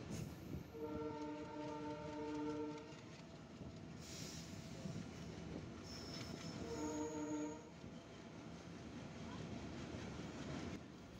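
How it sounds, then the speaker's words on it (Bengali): An express train rumbles steadily on a double line as another express crosses, with two long blasts of its horn sounding a few seconds apart, the second one shorter. "ডাবল লাইন ক্রসিং হচ্ছে সিরাজগঞ্জ এক্সপ্রেসের সাথে ঢাকা থেকে ছেড়ে আসা রংপুর অভিমুখী রংপুর এক্সপ্রেস ট্রেনের সাথে"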